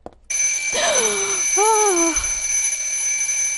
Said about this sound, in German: Der Wecker.